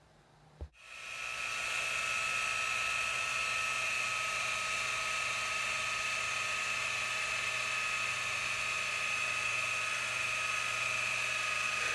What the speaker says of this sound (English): grab the rotary and a Lake Country wool pad and proceed with the cutting